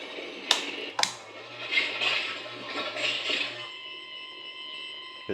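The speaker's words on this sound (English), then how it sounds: "it's got like a kind of alarm" A Haslab Ghostbusters proton pack gives off an electronic alarm, a sustained high warbling tone that starts after two sharp clicks, then gives way to steady high-pitched whining tones and a final click.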